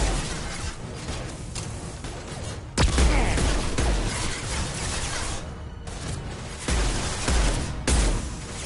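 Flashbang grenades detonate amid combat in Mass Effect 2, a series of sharp, loud bursts spaced a second or two apart over a constant roar of gunfire and battle noise.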